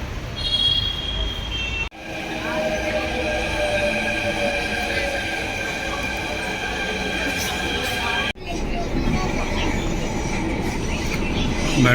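A steady, loud rumble of a metro train in motion, carriage noise droning throughout with brief jolts, heard from inside the car.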